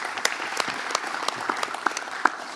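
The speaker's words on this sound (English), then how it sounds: "Let's give a round of applause for Mayor Batts." Audience applause for a city mayor at a community policing event, a steady wash of many hands clapping in a large room, with a few sharper individual claps standing out.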